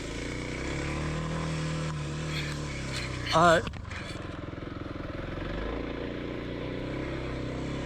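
A Kawasaki KLX300 dirt bike crawls through mud in first gear at walking pace, its engine a steady low drone with a brief rise in revs partway through, while a voice talks over it.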